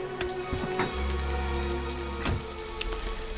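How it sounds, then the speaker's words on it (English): Rain patters steadily in a trucking video game, a close, even wash of droplets with a few sharper splashes and no voices. "I got sound effect for rain now"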